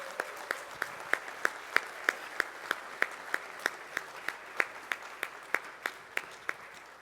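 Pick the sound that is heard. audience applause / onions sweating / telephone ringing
audience applause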